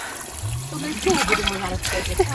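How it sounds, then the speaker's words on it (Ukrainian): Water runs from a mineral water tap at an outdoor spot with a barbecue and gazebo, a close trickling and splashing stream over background noise. "а оце кран з мінеральним"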